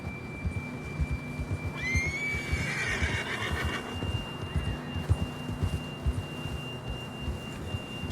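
A horse whinnies once in a Red Dead Redemption 2 western setting, a rising, quavering neigh at moderate distance over a steady hum and soft hoof clatter, with faint background ambience throughout.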